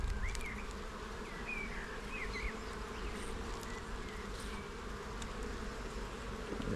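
Honey bees buzz steadily throughout an open-hive colony inspection, a close, continuous insect hum with occasional higher chirps and no talking.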